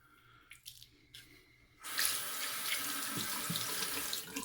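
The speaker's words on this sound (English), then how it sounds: "I'm going to put a little bit more water in this ladder real quick." Water runs from a tap into shaving lather from an Arko shave stick. After a second or two of quiet dabbing, it comes on abruptly as a loud, steady splashing stream with small drips and squishes.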